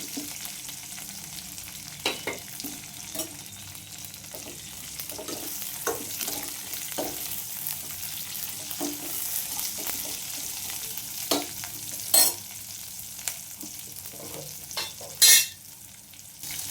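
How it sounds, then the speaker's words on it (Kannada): Chopped onions frying in oil in a pan for hesulu bele saaru, a soft continuous sizzle with occasional spoon scrapes and a couple of sharper metallic clinks, close and moderately quiet. "ಇವಾಗ ನಾನು ಈರುಳ್ಳಿ ಕಟ್ ಮಾಡಿದ್ದೀನಲ್ಲ, ಈರುಳ್ಳಿ ಹಾಕ್ತೀನಿ"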